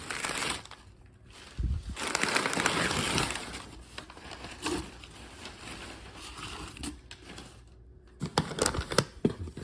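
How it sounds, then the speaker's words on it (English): Packing paper rustling and crinkling as air ride suspension parts are unboxed, steady close crackle with sharper bursts near the start and end, no voices. "Lots of paper."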